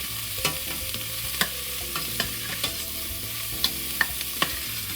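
Marinara sauce simmers and sizzles softly in a pan on medium heat while a utensil stirs it, with scattered light scraping clicks over a steady low bubbling and no voices.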